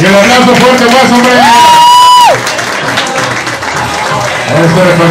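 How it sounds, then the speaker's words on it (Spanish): Loud clapping and cheering from guests at a children's birthday party, with a whistle or toy horn tone rising and holding briefly, then chatter and voices continuing over the fading applause. "Y el aplauso fuerte más,"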